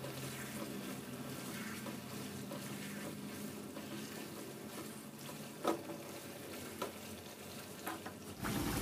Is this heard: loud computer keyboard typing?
no